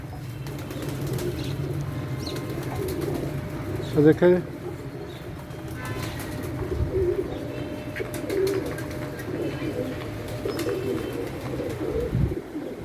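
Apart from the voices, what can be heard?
pigeons cooing and flapping at feeding time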